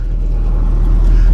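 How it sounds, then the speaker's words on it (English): A little car rolls past close by on a road, its deep engine rumble loud and steady, swelling slightly toward the end with no voices over it. "Wait for the little car to go by."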